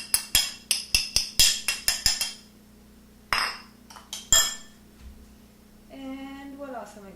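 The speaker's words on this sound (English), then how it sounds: "I'm going to grab a spoon here, and I'm going to add then the grated ginger" A metal spoon clinks sharply and rapidly against a bowl or jar while grated ginger is added for a raw food recipe, a quick run of bright taps followed by a few scattered knocks, with a voice speaking at the end.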